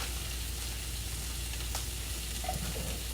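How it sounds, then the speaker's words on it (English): Food sears in a hot pan during meal prep, making a continuous dense sizzle at a steady level for the whole stretch, with faint light taps in the background. "Let them sear just a little bit right there."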